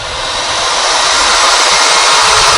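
Power tool cutting a hinge recess into an old door, a loud steady high-pitched whine that ramps up over the first moment and holds, close and unbroken.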